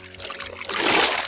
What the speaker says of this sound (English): just hold the edges, like I showed you, just the edges all around. We have it right here, and then dip it in the water